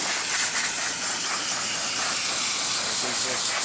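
Steady, loud hiss of steam rushing from the steam valve of a Rocket Celini espresso machine, continuous and close for a few seconds with no break.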